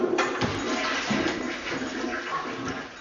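A toilet flushes in a horror film scene, a steady rushing and gurgling of water that stays loud and close for the whole stretch, with no voices.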